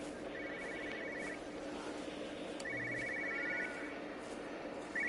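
An old-fashioned telephone bell rings in the Everybody's Gone To The Rapture video game, two bursts of rapid trilling about two seconds apart over a faint ambient background, with no talking.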